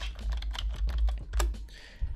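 Quick keystrokes on a computer keyboard as a command is typed into AutoCAD 2022, a close, uneven run of crisp clicks with a short pause near the end.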